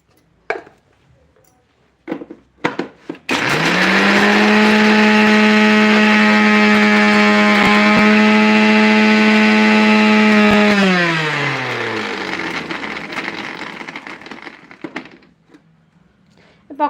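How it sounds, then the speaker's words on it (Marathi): After a few clicks and knocks, a kitchen mixer grinder whirs loud and steady for about eight seconds, grinding coconut, sesame, niger seed, roasted gram and garlic, then winds down with a falling whine. "खोबरं तीळ कारळ आणि थोडेसे फुटाणे आणि लसूण छान मिक्सरला बारीक करून घ्यायचा"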